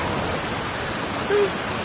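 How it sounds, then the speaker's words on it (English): Steady rain in the video game Genshin Impact hisses continuously, a dense even wash of falling drops with no voices, heavy and close throughout. "Let us find shelter from the rain."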